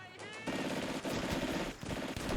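Machine gun fire in the Combat Mission wartime strategy game rattles in a dense, continuous stream of rapid shots, loud and close, with a brief dip midway.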